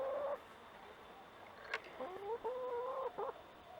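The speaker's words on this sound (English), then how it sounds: "And my chickens are here" Backyard chickens cluck softly in a few short, irregular bursts near a motorcycle repair spot, the calls faint and close over a quiet background.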